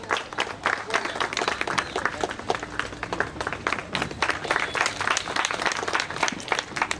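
Sustained, dense applause from a crowd welcoming a guest at an outdoor ceremony for a road construction groundbreaking, loud and continuous throughout.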